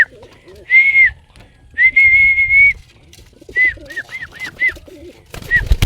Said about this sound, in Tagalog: Mga kalapatid.